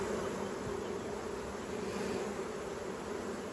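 Honeybees buzzing at an open hive during queen rearing, a dense steady drone of many insects close to the mic, continuous and even throughout with no talking.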